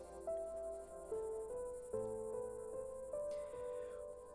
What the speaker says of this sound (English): Cicadas chirp.